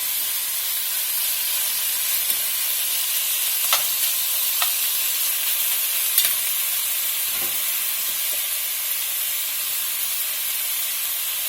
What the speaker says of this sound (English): We're just going to keep cooking it down until we get it brown.